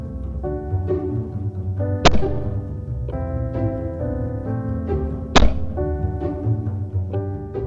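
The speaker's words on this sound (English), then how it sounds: "Let's shoot some clays." Two sharp shotgun reports from a J. Woodward shotgun firing at clay targets outdoors, spaced a few seconds apart over a steady background hum.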